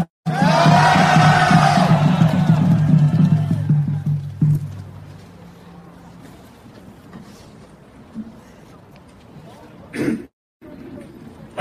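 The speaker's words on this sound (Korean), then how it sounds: "큰 박수로 부탁드리겠습니다." A crowd at an outdoor patriotic flag rally at Seoul Station cheers and shouts loudly in a dense roar for about four seconds, then fades to a quiet murmur with a brief voice near the end.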